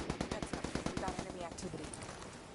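Rapid automatic gunfire in the video game Ghost War, a burst of about a dozen sharp evenly spaced shots that gives way to rattling, less distinct firing.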